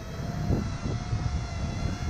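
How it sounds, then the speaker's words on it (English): A small ROVA selfie drone hovers close by with its motors running, giving a steady broadband whirring buzz that holds at an even level throughout with no one speaking. "And I can see one of the motors running."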